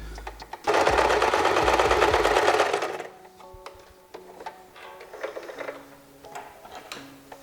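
Sewing machine stitching a car shift boot for a Nissan 240SX, running in a loud steady burst for about two seconds, then stopping, followed by quieter scattered mechanical ticks and clicks.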